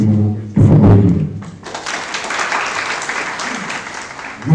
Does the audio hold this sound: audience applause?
yes